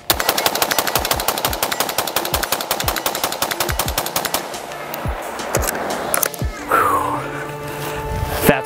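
AR-15 rifle firing at a shooting range, a loud rapid string of sharp shots that slows and thins out, followed by trailing clatter and ringing.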